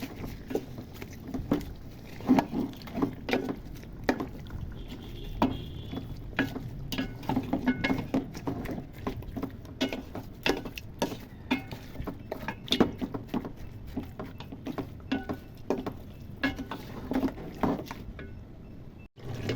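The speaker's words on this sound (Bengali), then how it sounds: "মাংস নেড়ে ছেড়ে দিতেছি" Beef stirred in a pot with turmeric, chili, coriander, salt and cumin: repeated scraping and clattering strokes over a steady sizzle, close and moderately loud, with no talking.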